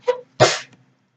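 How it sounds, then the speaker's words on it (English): A young girl sneezes close by in a quiet room: a short sharp intake followed by one loud burst, then silence. "She sneezed."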